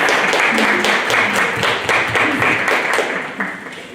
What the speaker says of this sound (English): Ladies and gentlemen, please give Dr. Carl van Wyk a warm round of applause.